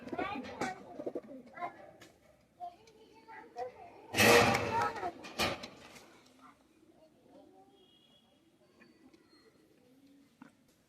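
Chinese Teddy pigeons at a bird sale, soft low cooing under someone talking, with a loud burst of wing flapping in the middle and quieter coos continuing afterward.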